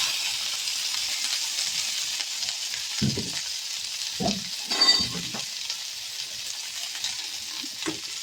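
Okra stir-frying in a spoonful of oil, a continuous close sizzle broken by several low scraping knocks of the spatula turning the pieces, with no talking.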